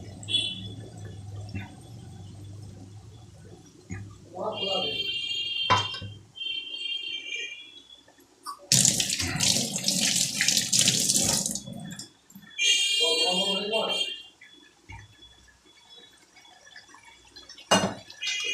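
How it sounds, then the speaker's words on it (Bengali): Dishwashing water poured into a cooking pot of raw katla fish curry while cooking, giving splashing, running-water bursts in several spells with quiet gaps between. "আমি থালা ধোয়া ম্যাগনেট করা যে থালা ধোয়া জলটা দিয়ে দিলাম"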